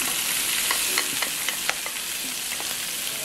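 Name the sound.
pork chops frying with marinade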